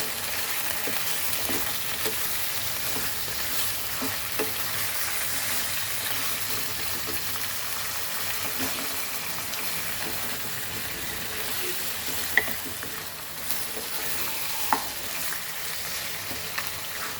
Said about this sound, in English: And we'll fry this mutton nicely in this oil.